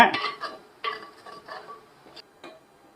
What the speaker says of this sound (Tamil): ஃபைனலாக ஒரு வாட்டி பெரட்டி எடுத்துக்குவோம் பா